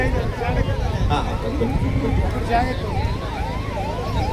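An ambulance siren wails, rising and falling repeatedly over a dense crowd murmur and traffic noise at a farmers' protest in Belagavi, moderately loud and close by.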